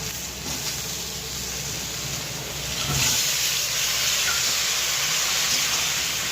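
Fried cauliflower tipped into a hot pan with turmeric and salt for a Bengali bhetki fish dish, a steady loud hiss of oil that swells into stronger sizzling partway through.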